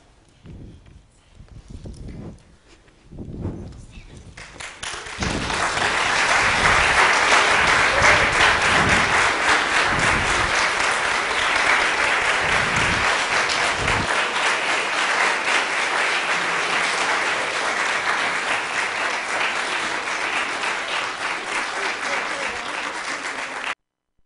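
A church congregation at a Christmas Eve service applauds after a children's Christmas story, scattered claps swelling into loud, sustained clapping that carries on steadily for nearly twenty seconds.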